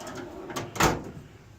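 A drawer on a Harbor Freight 44-inch top tool box slides with a short scrape and ends in a sharp metallic clunk, fairly close in a quiet room.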